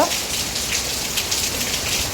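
Rain falling steadily, a soft even patter of drops hitting surfaces nearby.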